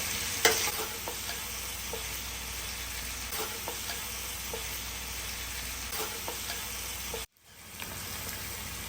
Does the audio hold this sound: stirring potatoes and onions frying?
yes